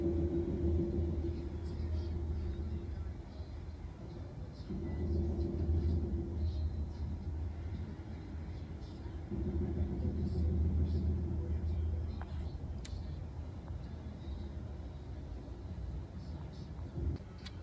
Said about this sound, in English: It sounds like there's airplanes or like there's an earthquake in the sky, but there is no airplanes or anything in the sky. It's just rumbling.